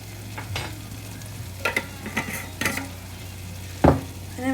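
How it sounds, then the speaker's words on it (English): Pepper chicken masala with turmeric powder being sautéed in a pan, a low steady sizzle under scattered scraping stirs and light clinks of a utensil against the pan, close and without talk. "saute it for about 1 to 2 minutes till everything is well combined"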